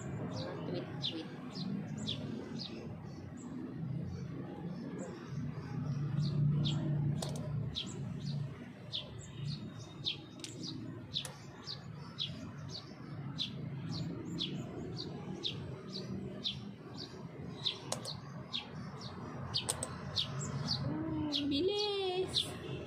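Many small birds, called ipon, chirping in a dense continuous chorus of short high tweets, with a low background rumble and a brief rising whistle near the end.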